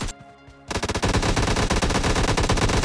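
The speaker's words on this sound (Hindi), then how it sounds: "छत से बहुत गोली चला रहा हूँ ना तुम लोग" Rapid automatic gunfire fired from a rooftop in PUBG Lite, loud and close, breaking into a dense sustained burst after a short sparse opening.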